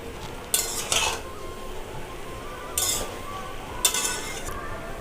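Taro leaves (kochu shak) are stirred in a pan, with three short clusters of metal-on-pan scraping and clinking against a quiet background.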